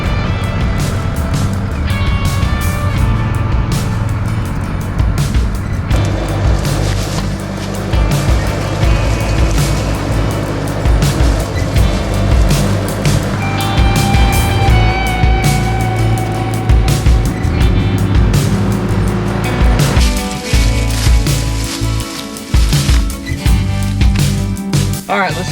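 Heavy machine fitted with a root rake grapple clearing brush to make a gravel pad for a propane tank, a loud steady engine drone with clanking and crunching throughout, the tone shifting near the end.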